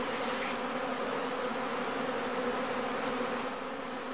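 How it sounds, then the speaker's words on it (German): Honeybees from a straw skep hive in a heath apiary drone steadily in front of the flight entrance, a continuous, even buzz with no voices. "Vor dem gewohnten Standplatz warten heimkehrende Bienen bereits darauf, dass sie mit ihrer Tracht durch das Flugloch einfliegen können."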